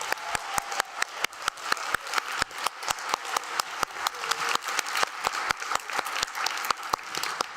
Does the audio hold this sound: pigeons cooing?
no